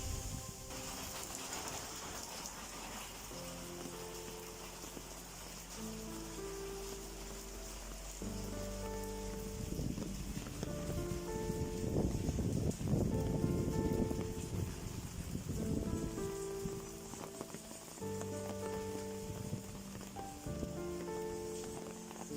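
Rain patters steadily on a surface, a continuous hiss with scattered drops. Tonal hums come and go beneath it.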